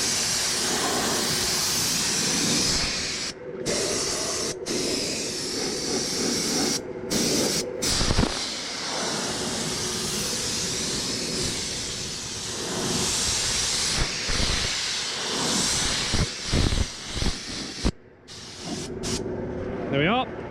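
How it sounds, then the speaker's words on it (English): An air-powered spray gun fed from an airline sprays a plough board, giving a loud, steady hiss that runs most of the time and breaks off several times in short pauses between passes. "That's hooked up to the airline, so let's give it a spray."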